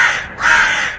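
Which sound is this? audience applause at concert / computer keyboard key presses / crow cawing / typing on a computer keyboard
crow cawing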